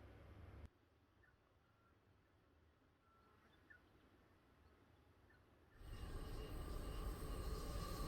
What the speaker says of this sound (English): throughout the evening we could hear the trains pass by